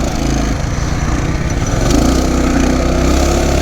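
A Coleman CT200U mini bike engine runs at full throttle, giving a loud, steady, buzzing drone up close that rises slightly in pitch partway through, with no voices over it.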